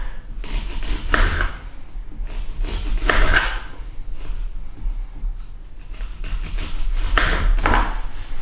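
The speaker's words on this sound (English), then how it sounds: "Now, instead of dicing this, I'm going to cut it into rounds." Knife slicing an onion into rounds on a board for a salad, a series of sharp, close chops in loose clusters with brief pauses between them.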